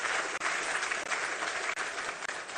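An audience at a memorial launch and unveiling gives speakers a sustained round of applause, dense steady clapping that fills the room from start to finish.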